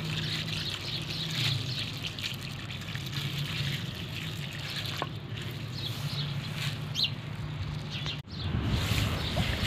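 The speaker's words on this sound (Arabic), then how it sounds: "احنا حاطين كده الميه اهي" Water for washing wheat on a rooftop runs in a soft, continuous trickle and splash, a low steady flow with a brief dip near the end.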